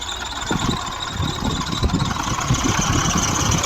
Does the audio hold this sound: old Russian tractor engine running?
yes